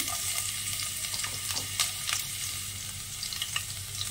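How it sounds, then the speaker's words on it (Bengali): Chopped garlic fries in oil in a kadai for an egg curry, producing a continuous moderate crackling sizzle with occasional sharper pops and faint stirring, heard alone without speech. "কড়াতে তেল দিয়েছি, প্রথমে দেব রসুন কুচি।"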